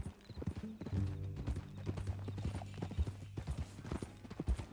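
Horse hooves clip-clopping steadily with a neigh in the Western video game Red Dead Redemption 2, close and fairly loud, with brief low talk in the background.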